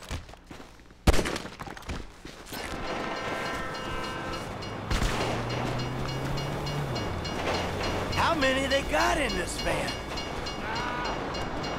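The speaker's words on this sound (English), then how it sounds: "If you were local, you'd know the train comes by right now!" A train rumbles past in the video game GTA V, with a rising clatter and a horn blast, while a voice speaks over the passing cars.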